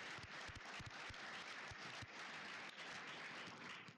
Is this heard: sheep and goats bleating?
no